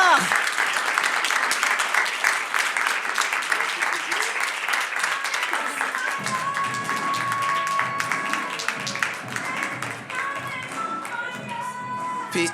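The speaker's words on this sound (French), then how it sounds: "on les applaudit très très fort" An audience applauds loudly as winners take the stage at a women's entrepreneurship award ceremony, with sustained dense clapping that later carries on under stage music.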